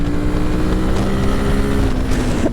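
Royal Enfield Himalayan 450 motorcycle accelerating in third gear on an open city road, a steady engine drone rising in pitch under strong wind noise, close and loud.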